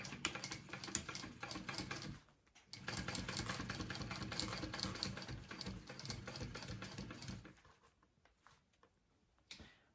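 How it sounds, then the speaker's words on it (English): A sewing machine top-stitches across the card slots of a wallet in quick rapid bursts of needle ticking, pausing briefly, resuming, then stopping with a short final burst near the end; close and clear. "I just need to stitch, top stitch across all of these card slots real quick"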